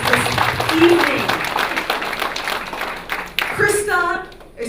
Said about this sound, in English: Round of applause again for our 3 poets this evening.